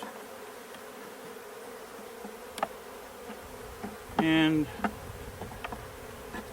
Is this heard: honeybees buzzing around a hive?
yes